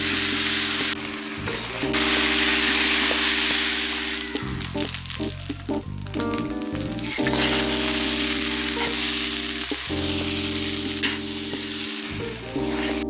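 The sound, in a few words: stir-frying rice with dried shrimp, shallots and garlic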